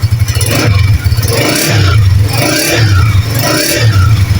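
A Honda 125 motorcycle engine, freshly reassembled with its cylinder head, revs close by in repeated surges roughly once a second, each throttle blip rising over a steady thumping idle.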